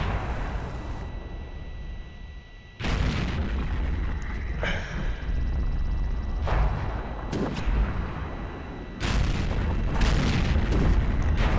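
Artillery shells from a Hummel self-propelled gun in World of Tanks fire and strike a tank, several loud, heavy booms spaced apart, each a sudden blast followed by rumbling.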